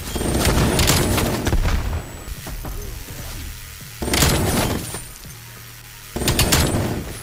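Heavy gunfire and blasts in Call of Duty: Black Ops Cold War, including a cooked grenade exploding, with loud dense bursts in three waves separated by quieter stretches.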